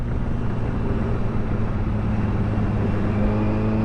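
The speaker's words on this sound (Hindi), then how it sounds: "तो ये जा रही है अपनी कार।" Steady, loud engine rumble of a car heard close by, a continuous low drone with faint tonal hum throughout and no break.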